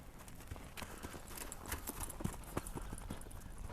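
Hooves of a large horse clip-clop steadily during a ride, with a rhythmic string of thuds, some louder strikes near the middle, and outdoor background noise.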